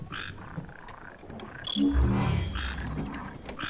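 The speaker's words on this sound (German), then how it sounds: "Ach, das sind doch Frösche bei ihr." Frogs croak in the video game Final Fantasy XV, giving fairly loud, rattling, ratchet-like croaks that swell in the middle of the stretch over a low ambient background.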